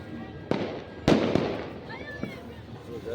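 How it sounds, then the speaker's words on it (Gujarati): Firecrackers go off at ground level in a few sharp bangs, one loud close burst followed by smaller pops and a faint whistle, with voices in the background. "આના ફટાકડા બધા નીચે ફૂટે"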